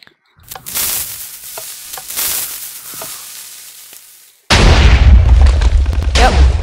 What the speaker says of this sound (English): so these are the TNT cannons that I have made